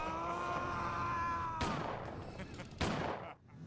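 A gunshot in the survival horror game Silent Hill 4: The Room, a sharp burst following a sustained tonal game sound, with a second impact and decaying noise after it.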